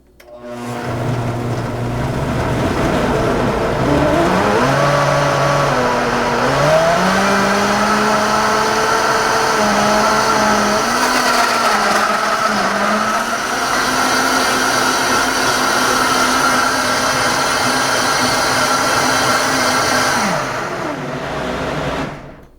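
Countertop blender whirring through a green smoothie with banana, a loud steady motor drone that dips in pitch as the blades catch the ingredients, then holds for about twenty seconds before cutting off.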